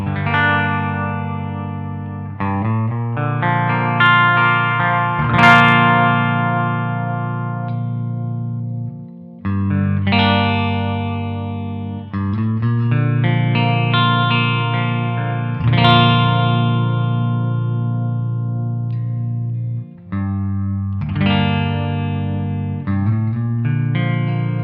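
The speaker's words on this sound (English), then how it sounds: "I've got this guitar playing through my Two Notes Revolt, and I also have a little bit of reverb on it through the Keeley Caverns" An IYV IVS-300 SG-copy electric guitar played through a Two Notes Revolt amp with a touch of Keeley Caverns reverb, ringing chords and sustained notes in several phrases with brief gaps, loud and close with no talking.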